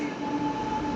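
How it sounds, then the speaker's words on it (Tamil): Train pulling into a station: a steady rolling rumble with a sustained tonal whine held throughout, close and continuous, no voices. "வீட்டுக்கு கிளம்பிட்டு ட்ரெயின் வந்துச்சு"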